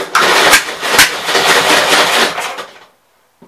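A 1957 Gravely walk-behind tractor engine, running on carb cleaner, fires and sputters loudly for a couple of seconds in uneven bursts before dying away to silence.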